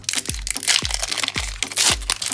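A Pokémon card booster pack from a blister is torn open in four sharp crinkling rips, each a close crackling tear of foil wrapper, evenly spaced with no voices.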